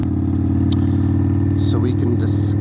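A 2021 Indian Scout motorcycle with a Hacker Mayhem exhaust idles loud and close, a steady low throb with a brief rev near the end.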